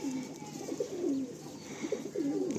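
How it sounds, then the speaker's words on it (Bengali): Pigeons coo close by in soft, repeated rolling phrases, a few low throaty calls in quick succession over quiet background. "এটা মাদা পায়রা"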